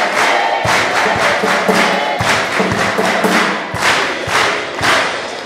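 A church congregation claps together in steady rhythmic bursts, loud and close, with crowd voices mixed in between the beats.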